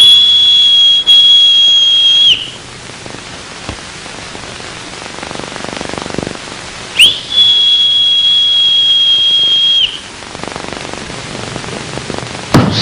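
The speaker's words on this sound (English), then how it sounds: "hear the laird's whistle" A high, steady whistle blown twice, each long note held for a couple of seconds, with a quieter rustling background in between.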